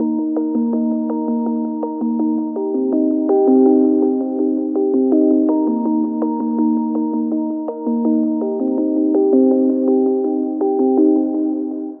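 A stock FL Studio synth plugin plays two alternating sustained chords in a simple repeating pattern, clean and steady with no voices.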